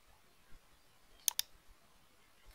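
A computer mouse gives two quick, sharp clicks close together, quiet and close-up against near silence.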